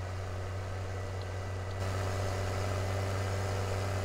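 Tractor engine from a farming video game driving over grass, a steady droning hum with strong low rumble that brightens slightly partway through, continuous and close with no talk.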